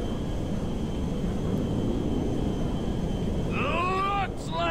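A large in-game airplane in GTA V drones with a steady loud roar and rushing wind while it lines up to land, and a voice speaks briefly near the end.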